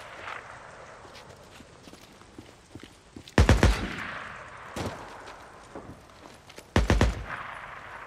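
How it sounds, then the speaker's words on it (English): Gunfire in Days Gone rings out in a few sharp, loud bursts spaced several seconds apart, each a quick cluster of shots over a quieter backdrop of footsteps and ambient rustle. "Somebody shoots back."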